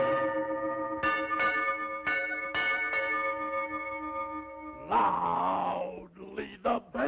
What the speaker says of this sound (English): Loudly the bell in the old tower rings